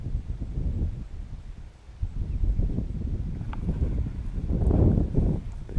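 Wind gusting outdoors at a quiet fishing spot off the road, a steady low rumble of buffeting against the microphone that swells and eases over several seconds.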